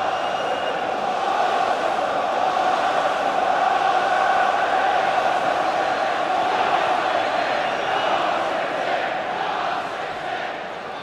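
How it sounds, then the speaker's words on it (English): Large stadium crowd in the FIFA 15 video game at the FA Community Shield, Arsenal vs Manchester City, a steady roaring murmur with chanting swells, loud and continuous throughout. "Good crowd here."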